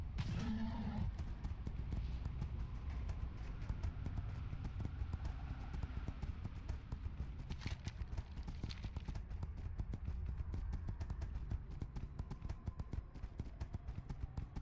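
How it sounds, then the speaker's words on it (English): World of Warcraft Hearthsteed horse mount trotting with rhythmic clip-clop hoofbeats and a brief neigh near the start, over quiet game ambience. "This horse is awesome."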